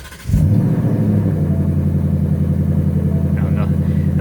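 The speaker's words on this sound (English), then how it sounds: "I don't know if you can hear that exhaust, but the exhaust is very awesome in this car." A 2021 Ford Mustang GT with the 5.0 engine fires up its exhaust, settling into a steady, deep, close rumble that continues to the end.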